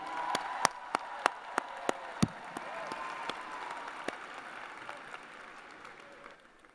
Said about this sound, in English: let's get one more round of applause for the stars of our show today, the graduating class of UMA